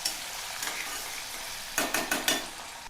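Plain potatoes sauté in a pan with a steady, moderate sizzle, then a quick run of about four close scraping stirs of a spatula near the end.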